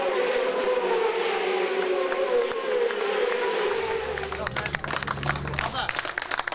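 Kawasaki racing motorcycles in a GBmoto race at Brands Hatch cross the finish line. Engine noise rises and falls as the bikes pass, with crowd applause building toward the end, all under steady race commentary.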